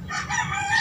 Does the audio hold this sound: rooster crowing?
yes